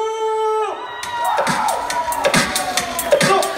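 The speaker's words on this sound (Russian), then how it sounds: "Ну, какие аплодисменты, такое шоу!" Audience cheering and applauding for the show, which rises out of a fading musical chord into a loud, sustained crowd roar with whoops and scattered claps.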